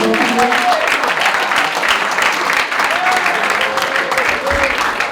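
Steady, loud applause from an audience honoring vice-presidential candidates at a student executive candidates Q&A, dense clapping filling the whole stretch with a few faint voices and crowd murmur mixed in.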